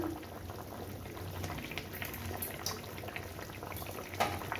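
A thin hilsa fish curry with eggplant bubbles steadily on the stove, a soft continuous simmering burble with small pops and hiss, close and moderately quiet, no speech.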